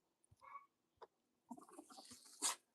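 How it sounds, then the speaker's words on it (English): Hens squabble in a nest box in a henhouse, giving short scattered clucks and squawks that build to a louder flurry near the end. The sound is faint and close, with no talking. "They're in there fighting over the same nest box."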